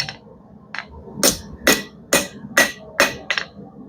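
A 1.5 pound hammer beating steel while forging a blacksmith chain hook: seven sharp metallic strikes in a steady rhythm, close and loud, with a brief ring after each blow.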